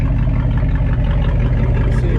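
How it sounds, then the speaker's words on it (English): A 1967 Ford F100 truck idles close by, a loud, steady low rumble from the engine and exhaust with an even, throbbing pulse and no talking. "Exhaust cuts out right there. Got a really good sound to it."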